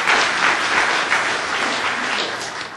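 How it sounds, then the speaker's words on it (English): A crowd applauds steadily, a dense wash of many hands clapping that continues throughout without a break. "Nancy, a big round of applause."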